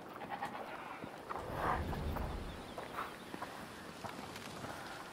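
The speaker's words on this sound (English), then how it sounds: "Oh, come on. It's a goat," A goat in the video game A Plague Tale: Requiem gives one bleat, moderately close, amid soft footsteps and hoof clops in a quiet outdoor scene.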